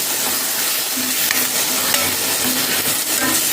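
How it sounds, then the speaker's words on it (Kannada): Tomato and onion paste hits a pan over a high flame for a Muslim-style fish curry, giving a loud, steady, hissing sizzle with stirring that runs throughout. "ಟೊಮೆಟೊ ಮತ್ತು ನೀರುಳ್ಳಿ ಪೇಸ್ಟ್ ಮಾಡಿ ಹಾಕಿಕೊಳ್ಳಿ ಹಾಕಿ ಒಳ್ಳೆ ಉರಿ"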